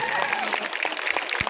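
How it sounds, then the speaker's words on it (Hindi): Crowd applause at a large BJP political rally in Hailakandi, a dense steady clatter of clapping running throughout the short stretch under a busy, echoing open-air ambience. "जोर से ताली बजाओ जाकिर हुसैन जी के लिए"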